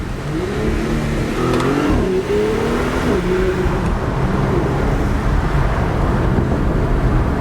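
Porsche Panamera 4S engine pulling hard under acceleration, a loud, rising engine note heard from inside the car, steady and continuous with no talking.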